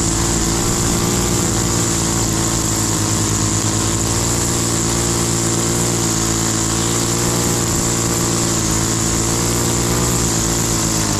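A gas-powered lawn edger runs continuously while edging around flower beds, its loud, steady engine whine close and unbroken throughout.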